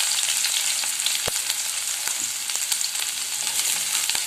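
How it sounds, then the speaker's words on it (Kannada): Mustard seeds, cumin, curry leaves and onion sizzle in hot oil, a steady bright crackling hiss with a few sharp pops, close and fairly loud throughout with no voices. "ಕರಿಬೇವು ಮತ್ತು ಈರುಳ್ಳಿಯನ್ನು ಸೇರಿಸ್ತಾ ಇದ್ದೀನಿ."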